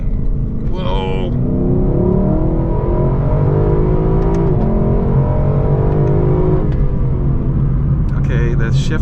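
A Lexus LC500 accelerates hard, its engine revving loudly with pitch climbing through the gears in a continuous close roar while the driver talks briefly over it.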